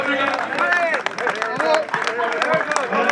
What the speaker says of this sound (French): Et applaudissements au passage